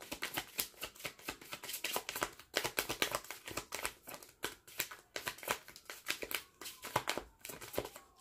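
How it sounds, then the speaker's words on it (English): A deck of tarot cards being shuffled in a quick, steady riffle of crisp flutters and snaps, close and fairly loud, running continuously without talk. "This was not a clunky shuffle for the off-camera portion"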